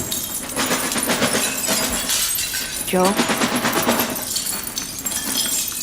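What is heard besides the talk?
broken glass crunching, from a TV series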